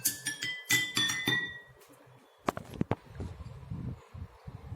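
A spoon taps jal tarang bowls in a quick run of bright glassy clinks, then fades into softer knocks and handling noise, close and quiet with no speech.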